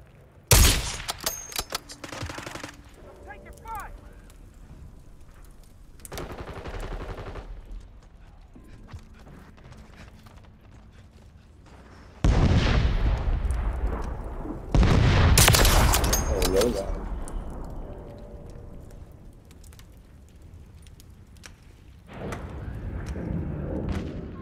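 Gunfire rings out in Call of Duty, with a sniper rifle in use: sharp bursts of shots come at irregular intervals amid louder stretches of game noise, while someone talks between them.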